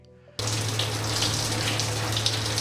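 Shower water switches on abruptly and runs in a steady, full rushing spray with a low hum underneath, close and continuous after a brief quiet start.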